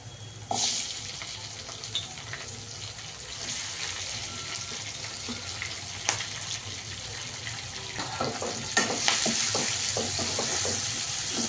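Chopped capsicum hits a hot pan and fries, a loud steady sizzle with stirring scrapes and spatter that stay constant, rising slightly near the end.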